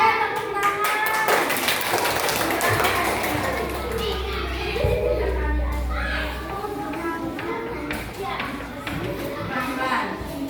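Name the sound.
classroom applause, children clapping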